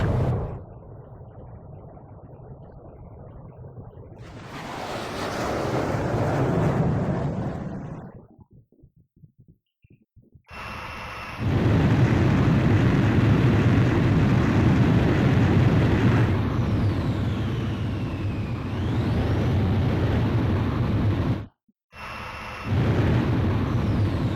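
A fighter jet launches off a carrier catapult in Ace Combat 5: a swelling engine roar, a brief lull, then a sustained loud, close jet rumble that cuts out sharply before resuming.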